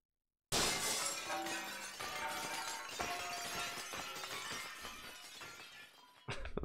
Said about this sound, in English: That just sounds like regular glass, like a glass window breaking.